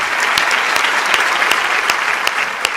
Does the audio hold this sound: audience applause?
yes